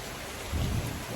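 Summer storm with steady rain pattering and a low thunder rumble swelling midway, heard at a moderate distance with no voices.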